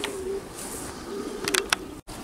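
Racing pigeons coo softly and low at a loft, a faint murmuring hum with a few sharp clicks and rustles near the end.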